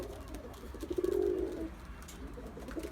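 Pigeons coo at close range, one clear, rolling coo standing out mid-stretch against a soft outdoor background, with fainter murmurs after it.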